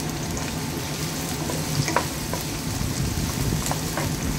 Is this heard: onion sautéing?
yes